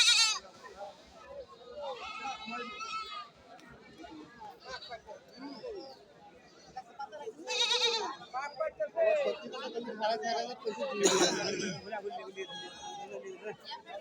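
Goats bleat repeatedly amid a busy market crowd, with people talking and chattering around them throughout.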